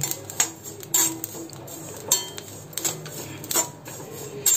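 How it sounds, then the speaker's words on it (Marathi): Fennel seeds dry-roast in a hot kadhai over low heat, giving a series of sharp, irregular ticks and small pops with light metallic scraping, close and fairly crisp against a quiet background. "आवाज यायला लागला बघा, कढई तापलेली आहे, त्यामुळे जरा मंद आचेवर मी चांगली ही बडीशेप भाजून घेते"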